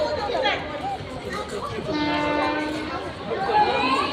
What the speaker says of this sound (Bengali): ঝিকঝিক করে চলে যাচ্ছে ট্রেনটা।